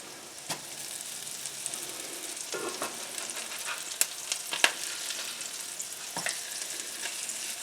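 Black bean burger patties fry in a pan with a steady, crackling sizzle, broken by a few sharp pops and the clink of a spatula turning them.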